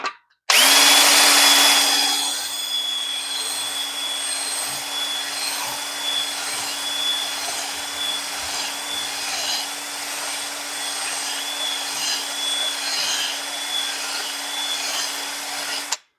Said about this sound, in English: You just clean this up with a little flap wheel.